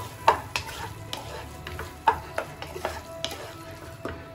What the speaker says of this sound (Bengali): এবার এর মধ্যে আমি এই সিদ্ধ ডিমগুলোকে দিয়ে দেবো এবার এটাকে আমি ভালো করে নেড়ে ছেড়ে নেব